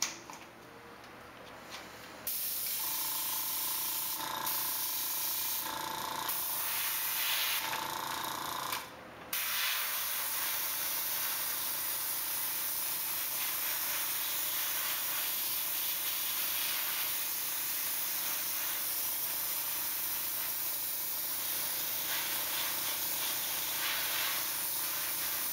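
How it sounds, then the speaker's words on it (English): A steady airy hiss of spray paint on a 1/1000 scale Enterprise B model kit runs almost continuously, broken by a few short pauses early on, with faint ticking underneath and no talking. "So I'm ready to spray, and here we go."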